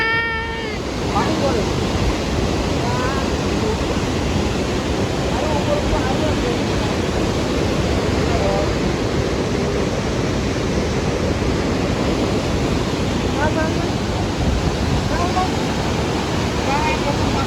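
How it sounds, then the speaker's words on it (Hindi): Steady broadband rush of falling water fills the whole scene, constant and fairly loud, with faint bird-like chirps and a voice briefly above it. "एक वाटरफॉल है, बहुत सुंदर सा वाटरफॉल था"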